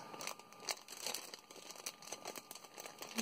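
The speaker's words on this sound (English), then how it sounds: "sorry for the crinkling" Packaging crinkling close up while items are unboxed, a continuous rustle of plastic wrap with dense irregular crackles for the whole few seconds.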